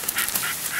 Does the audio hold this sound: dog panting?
yes